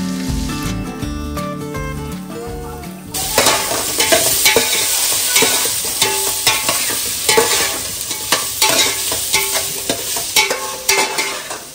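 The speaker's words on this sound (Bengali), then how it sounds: "সবজিটা ভাজতে ভাজতে এখানে আদা বাটা অ্যাড করেছি" Vegetables for veg pulao fry in a little oil with bay leaf and whole garam masala in a deep pot, with a steady loud sizzle and scraping, clattering stirs that start sparse and turn dense.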